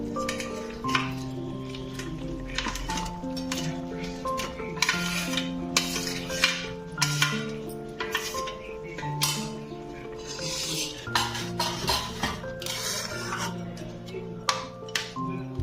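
Fish head added to partly cooked rice in a cooking pot for a Bengali fish-head dish, with repeated metallic clinks and scrapes of a utensil against the pot over a low background, in irregular bursts across the whole stretch.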